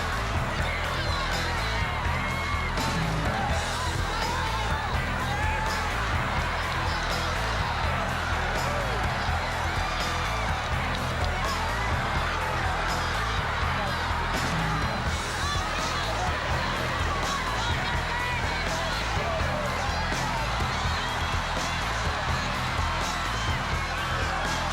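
Crowd roaring and cheering at a 2010 Kerry Gaelic football match as Paul Galvin comes on, a loud, sustained swell of many voices with scattered whoops and shouts throughout, commentary speech running over it.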